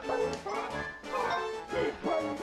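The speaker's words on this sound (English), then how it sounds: "bark at him to call him!" A small robot character in the video game Chibi-Robo barks like a dog, three or four bright, tonal yapping barks in quick succession, close and clear over faint game background.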